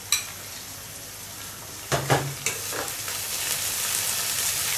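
Garlic and ginger paste sizzles in a frying pan, a steady low frying hiss with a few sharp clanks of a spoon stirring against the pan.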